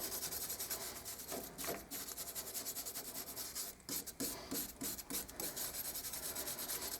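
Steady rasping scrubbing on rusty Fiat Fiorino front brake parts, a close, continuous back-and-forth rubbing rhythm with a few short pauses and no talking.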